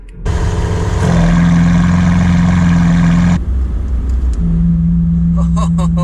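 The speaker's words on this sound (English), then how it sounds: "that's the deep V12 rumble that I was looking for" Lamborghini Aventador S Roadster V12 with the exhaust valve closed starts with a loud deep rumble, swells into a steady high-revving hold, then drops back to a lower idle burble while a voice speaks briefly over it.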